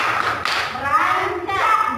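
A group in a budgeting workshop claps a short rhythmic tepuk rancak pattern, the close, quick claps blending with overlapping voices and chatter.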